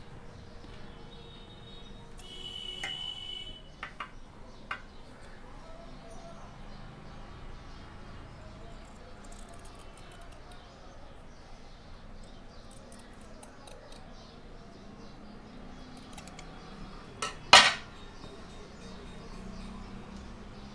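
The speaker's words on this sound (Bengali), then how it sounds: "এইখান থেকে এইভাবে আমি এটাকে কাটিং করে দেবো" Scissors snip through fabric being shaped into a small Laddu Gopal nappy, a few quiet cuts near the start and later, with one loud sharp clack; someone talks throughout.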